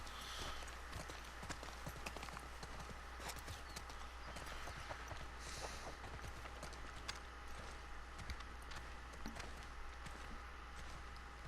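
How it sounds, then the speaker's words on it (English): Hooves of three horses in The Last of Us Part II clop softly at a walking pace, a quiet, steady rhythm heard from a short distance with no voices. "You got 3 horses."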